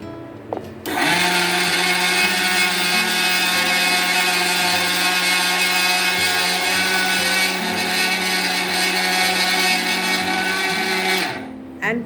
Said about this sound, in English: First grind 1 and 3/4 cup of sugar in a mixer grinder.